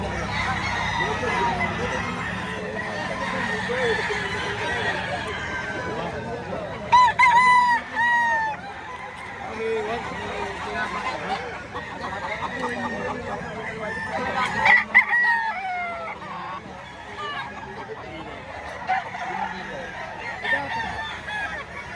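Roosters crow repeatedly over a busy backdrop of clucking chickens at a chicken market in Lipa, Batangas, with two louder crows standing out near the middle.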